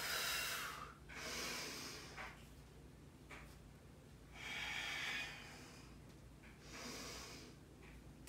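Deep, slow breaths during a yoga session, three long airy inhales and exhales with short pauses between, close and soft with no talking.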